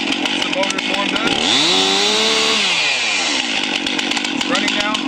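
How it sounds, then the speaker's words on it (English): A chainsaw engine runs close by, idling to warm up with the chain brake on, a rough buzzing rattle, briefly revving up and winding back down midway. "You're going to be able to just let it idle for a little bit, making sure that the chain brake is on."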